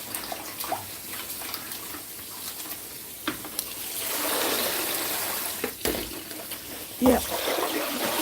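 Tap water runs while produce is washed, a splashing hiss that swells and fades with bursts of handling noise, under a woman's speech.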